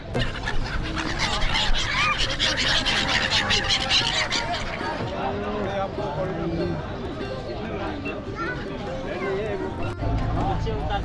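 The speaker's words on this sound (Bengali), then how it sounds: "সেই দানার জন্য দেখো পাখি উঠছে, দেখো।" Birds flock for scattered grain at Assi Ghat in Varanasi, a busy mix of clucking and chattering calls and fluttering close by, continuous throughout under constant crowd chatter and talking voices on the riverside steps.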